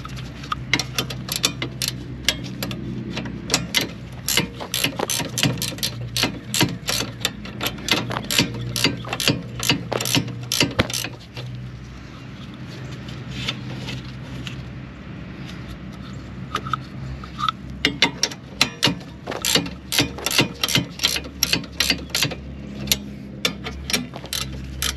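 A ratchet tightens the mounting bracket bolts on a Nissan Altima brake caliper, giving rapid close clicking in steady runs with short pauses between strokes.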